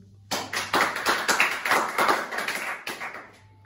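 Small group clapping for a correct answer during a biology quiz, a few pairs of hands producing a quick, uneven patter of close claps for about three seconds that fades out.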